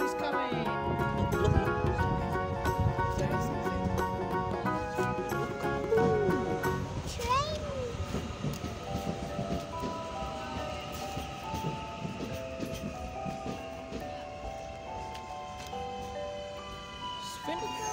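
A train rumbles and clatters into a station, with squealing brakes and tonal hums over steady rolling noise.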